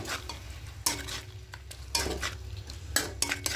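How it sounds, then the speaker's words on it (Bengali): A spoon stirs chicken coated in ground coriander leaf paste in a pan, giving repeated scraping clinks and soft sizzling at moderate, close range, with no talking. "এবার খুব ভালো করে আরও মিক্স করে নেব।"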